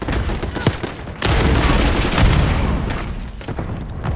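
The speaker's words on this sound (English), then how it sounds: "Throwing frag." A frag grenade is thrown and explodes in the Black Ops 6 multiplayer match Domination on Payback, with a sharp thud, then a sustained roaring blast and rumble mixed with scattered gunfire, followed by a later crack.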